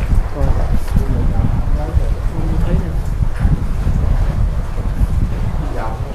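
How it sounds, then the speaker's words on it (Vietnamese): Strong wind gusting at the mouth of a sea cave, buffeting the microphone with a loud, steady roar, while people talk over it. "có gió rồi đúng rồi"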